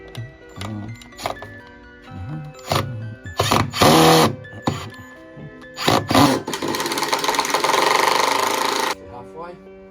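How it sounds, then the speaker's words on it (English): A power drill bores holes outdoors in an autumn garden, running in several short, loud bursts and then one longer steady stretch, with a person talking between the runs. "Drill the holes, don't I?"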